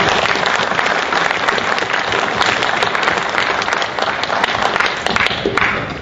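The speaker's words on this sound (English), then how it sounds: "Let's give them one more round of applause." Steady, loud applause from an audience at a school board meeting, honoring a high school student band, sustained across the whole stretch without pause.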